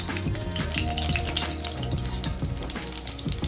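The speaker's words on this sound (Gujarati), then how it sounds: "રાઈને જીરો એડ કરી દીધું છે, કઢી પત્તો અને લસણ નાખું।" Mustard and cumin seeds sizzle in hot oil for a tempering in a leftover rice recipe, a steady, dense crackling hiss that continues throughout without any voices.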